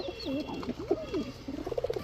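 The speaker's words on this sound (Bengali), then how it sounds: "এখন দেখাবো ইরানি শেখ শার্লি একটা নর কবুতর" A male Irani Sheikh Shirazi pigeon coos nearby in soft, rolling, repeated throaty notes, with faint background hum.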